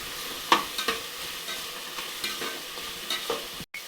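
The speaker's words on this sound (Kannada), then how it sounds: "ಇವಾಗ ಒಂದು ಕ್ಯಾಪ್ಸಿಕಮ್ ಇದ್ದೀನಿ ಇದನ್ನು ಒಂದು ನಿಮಿಷ ಚೆನ್ನಾಗೆಲ್ಲ ಫ್ರೈ ಮಾಡಿ" Capsicum stir-fried in a pan for vangi bath, a steady close sizzle broken by repeated soft spatula scrapes and stirring strokes, ending in a brief cut to silence, with no one speaking.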